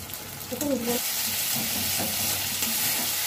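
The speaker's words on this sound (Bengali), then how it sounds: "চচ্চড়ি একটু ভাজা ভাজা করবেন, দেখবেন দারুণ লাগে খেতে।" Bitter gourd and potato chorchori fries and sizzles in a pan, a steady hissing with soft stirring scrapes throughout.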